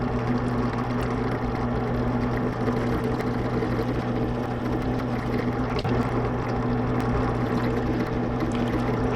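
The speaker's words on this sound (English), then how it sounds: "I'm gonna be drilling holes" An electric drill bores holes through a copper blade for a homemade lipless crankbait lure, giving a steady, close, continuous motor whir with no breaks and no talking.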